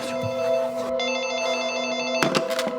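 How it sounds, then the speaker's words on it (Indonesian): A house telephone rings in a Korean film, giving a couple of bright, electronic ring bursts close up, followed by a short clatter as the ringing stops. "Tiba-tiba telepon rumah berdering"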